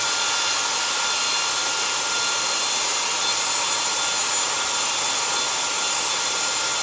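An air blower runs continuously while die-cut shapes are being cut, a steady, loud breathy whoosh with no breaks and no voices.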